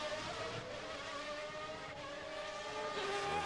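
Ayrton Senna's Formula 1 car on a 1991 British Grand Prix qualifying lap, a high, screaming engine note held at speed through the infield, its pitch shifting as the car sweeps through corners.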